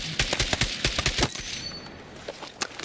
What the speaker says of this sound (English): From a distance, you might have to burst fire a little bit.